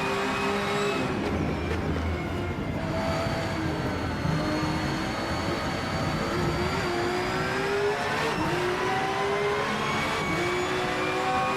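A race car engine in the video game Project Motor Racing roars continuously, its pitch rising and falling as it revs and shifts, loud and sustained with no voices.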